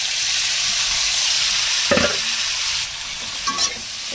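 Pumpkin pieces frying with onions in a hot pan give a steady, dense sizzle, with brief scraping clatters as a spoon stirs them partway through.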